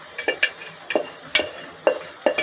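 Mutton pieces hitting a hot kadai, with several sharp clatters and scrapes of stirring over a faint sizzle, close and irregular.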